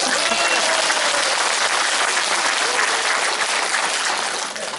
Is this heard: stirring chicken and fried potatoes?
no